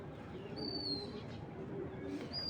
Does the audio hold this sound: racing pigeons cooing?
yes